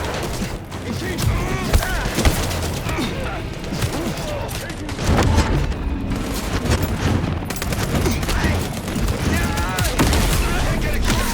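Dense, loud video-game gunfire in a close-quarters firefight, with rapid automatic bursts and booms running continuously while voices shout over the shooting.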